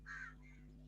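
A crow caws once, faint and far off, over a steady low electrical hum indoors.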